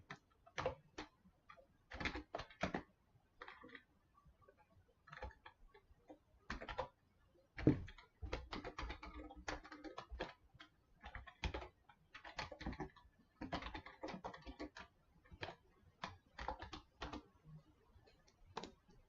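Fingers type quickly on a computer keyboard, close and fairly quiet, in bursts of rapid clicks broken by short pauses, with no voice.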